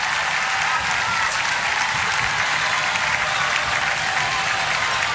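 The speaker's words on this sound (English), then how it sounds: "The armed forces giving a round of applause." Members of the armed forces giving a round of applause outdoors at a ceremonial event, a steady, dense wash of many hands clapping at even loudness throughout, with no voices over it.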